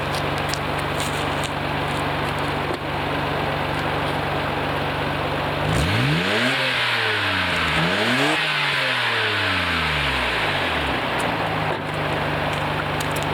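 A 1991 Nissan Skyline GT-R engine revs hard through its exhaust, rising and falling in two big sweeps before settling, over a steady background hiss.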